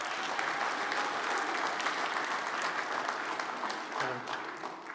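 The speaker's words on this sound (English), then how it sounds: "give her a round of applause" An audience at a career education recognition event gives a round of applause, steady crowd clapping that fills the hall throughout and eases off slightly near the end, with a faint voice briefly audible.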